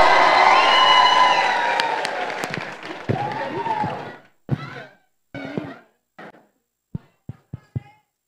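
Young school audience at a youth gathering in Heliópolis, São Paulo, cheers, shouts and claps loudly at first, the crowd noise fading after a few seconds into scattered bursts and isolated claps and thumps.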